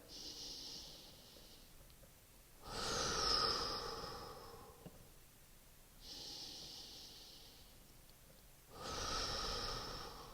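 Slow, deep breaths during a breathing drill: two long, close, airy inhales alternate with softer exhales in a steady rhythm, with no voice.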